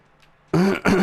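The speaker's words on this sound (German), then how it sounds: "Es tut mir echt leid, wenn ich mich da räuspern muss" A man clears his throat twice in quick succession, close and loud, with a guttural rasp that breaks off briefly and then repeats after a near-silent start.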